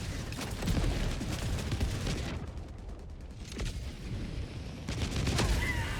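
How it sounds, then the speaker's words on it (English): Enemy artillery fire in Helldivers 2, dense crackling bursts of gunfire and blasts that fill the opening seconds, ease briefly into a rumble, then return loud near the end. "Warning, you are in range of enemy artillery"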